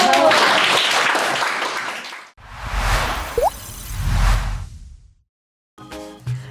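Middle-school students in a classroom burst into applause, a dense spell of clapping that breaks off, then swells again with murmuring voices mixed in before fading to quiet.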